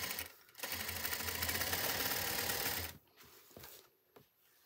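Sewing machine stitches cord piping onto fabric in a close, steady whir for about two and a half seconds, then stops, leaving a few faint handling clicks.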